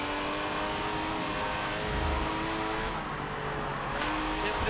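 A Porsche race car in Forza Motorsport, steady close engine drone with sustained high revs and faint tire noise, continuous and loud throughout.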